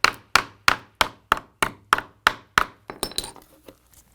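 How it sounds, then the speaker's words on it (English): A hammer strikes metal pieces flush on a damaged arcade cabinet corner, about nine sharp, evenly spaced ringing blows close by, followed by a few lighter, scattered taps. "take our hammer on the ground, like so, and just kind of hammer them flush"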